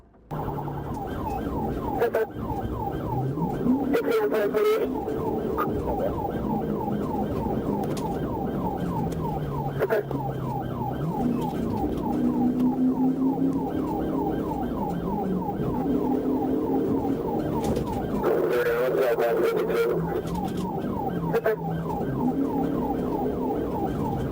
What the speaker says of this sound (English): officers activated their emergency lights and sirens